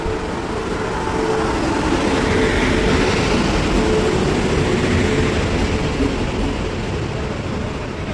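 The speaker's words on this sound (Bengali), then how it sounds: "ট্রেন অলরেডি চলে এসেছে" Loud, continuous rumbling roar of a train arriving at Santragachi station close by, a broad steady wash of rolling noise with a faint tonal hum running through it.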